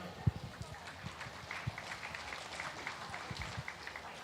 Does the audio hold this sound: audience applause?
yes